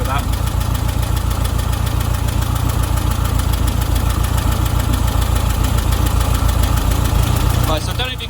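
Volkswagen Beetle air-cooled engine idling steadily at about 850 rpm during a tune-up, a loud, close, even low rumble with a fast regular pulse that holds for the whole stretch, then drops slightly at the very end.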